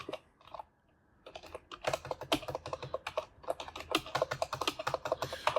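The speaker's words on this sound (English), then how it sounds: "I'm going to type Jared Learn BC guy" Close, rapid typing clatters on a computer keyboard, with a brief pause near the start before a steady run of crisp key presses continues to the end.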